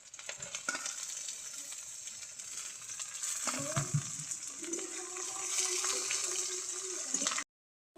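Onion, ginger and garlic fry in a pan until browned, giving a steady, moderately faint sizzle with occasional stirring scrapes before it cuts off abruptly.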